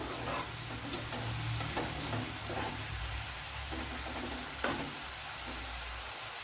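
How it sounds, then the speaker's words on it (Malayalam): Green beans stir-frying in a pan give a steady close sizzle, with the repeated scrape and rub of a spatula over the surface and one sharper knock near the end, heard alone without talking. "നമ്മുടെ ബീൻസ് പയറൊക്കെ ഇവിടെ നല്ലപോലെ വഴണ്ട് വന്നിട്ടുണ്ട്"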